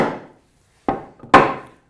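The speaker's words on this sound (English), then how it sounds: "it might be worth banging these in so they're in nice and firm" Wooden chair legs on a captain's chair are knocked firmly into their sockets, giving three sharp, close thuds: one at the start, then two more about half a second apart, each ringing and fading quickly.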